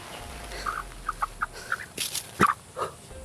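A white chicken clucks in short, separate bursts, fairly faint and close, over quiet outdoor background with no talking.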